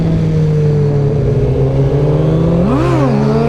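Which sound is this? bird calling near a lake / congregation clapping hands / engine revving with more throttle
engine revving with more throttle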